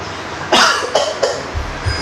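A person coughs three times in quick succession at close range, each sharp, breathy burst fading quickly, followed by faint low shuffling.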